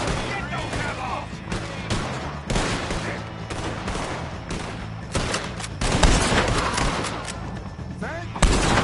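Heavy, sustained gunfire in a Red Dead Redemption 2 shootout, rapid overlapping shots and booming reports rolling on for seconds, with characters shouting amid the firing.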